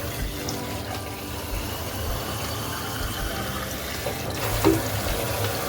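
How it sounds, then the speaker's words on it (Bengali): Kitchen sink tap runs steadily at moderate loudness while dishes are washed and the sink is cleaned, with faint clinks and splashes over the continuous water flow and a brief louder splash near the end. "আমি সব বাসনগুলিকে ধুয়ে সিঙ্কটাকেও ভালো করে সাফ করে নিচ্ছিলাম।"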